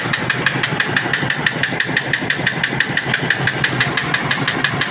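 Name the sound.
Isuzu Alterra engine misfiring and knocking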